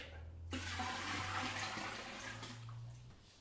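Water rushes and splashes steadily into a Braumeister home brewing machine for about three seconds, a close, continuous pour with a low hum underneath, briefly easing near the end.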